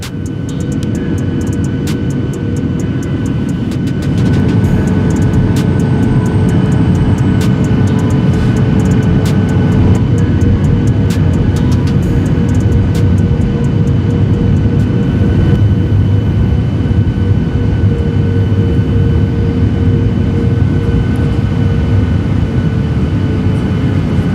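Steady, loud cabin roar inside a KLM Boeing 737-800 on descent toward Vienna, a dense broadband engine and airflow rumble with faint tonal hums, holding continuously throughout with no speech.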